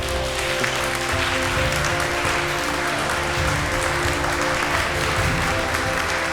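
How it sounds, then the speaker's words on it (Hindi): An audience at a ceremony honouring exam toppers claps continuously in a loud, sustained roar of applause, with a steady hum and crowd murmur underneath. "तालियां बजती रहनी चाहिए"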